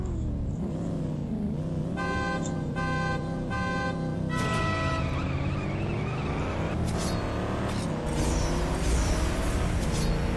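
A 1969 Pontiac GTO Judge with a close-ratio 4-speed launches in a drag race in the game CSR Classics against a Mustang: loud engine roar under tire squeal, with a horn-like tone and a steady revving climb through the gears.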